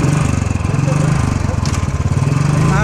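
A KTM RC 390 motorcycle engine revs off road while stuck, a loud, close, rough pulsing drone on light throttle that holds steady throughout.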